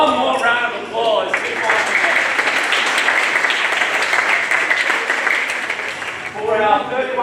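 An awards party audience bursts into applause for winners, a full wash of clapping lasting several seconds, framed by a presenter talking into a microphone before and after.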